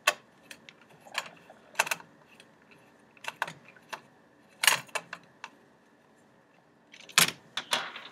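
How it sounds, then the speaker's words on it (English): Small screws being loosened and pulled from a bracket on an umbrella rib, heard as scattered light clicks and ticks at close range, quiet and intermittent with pauses between. "we're just going to loosen up two screws on the bracket"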